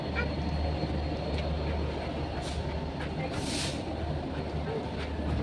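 A Vistadome train runs along the tracks, heard from inside the carriage as a constant rumbling roar with faint rattles and a brief hiss.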